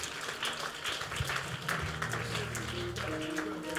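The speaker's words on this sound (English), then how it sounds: "Clap your hands if you can." A church congregation claps along during a sermon, a dense, continuous patter of many hands under faint music and voices.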